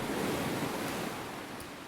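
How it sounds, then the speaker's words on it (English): Waves roll and crash against a rocky shore in a video game, a dense, continuous surf roar close by with a wind-like hiss, steady and alone. "The rhythmic sound of the waves rolling against the rocky terrain."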